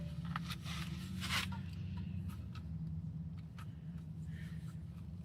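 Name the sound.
C-clamp compressing brake caliper piston on a 2006 Honda Civic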